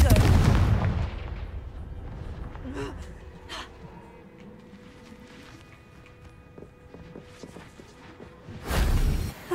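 A Confringo fire spell blast from the Hogwarts Legacy video game: a loud burst at the start, a quieter stretch of game ambience with faint scattered effects, then another loud blast near the end.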